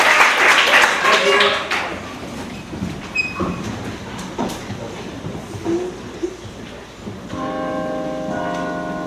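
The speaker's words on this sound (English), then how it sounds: "Those bells, so peaceful." Church bells ring out with sustained tones near the end of a staged theatre scene from Spring Awakening, following a stretch of rumbling noise and brief vocal sounds.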